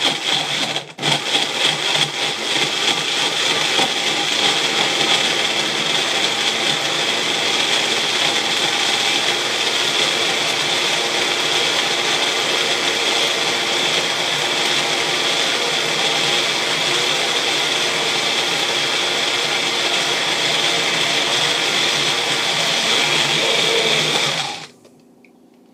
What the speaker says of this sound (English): And you want to start your blending again.